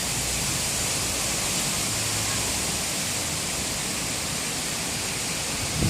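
Strong autumn wind blowing outdoors among falling leaves behind a building in Metro Vancouver, B.C., a dense, steady rushing roar without pause and fairly loud, with no voices.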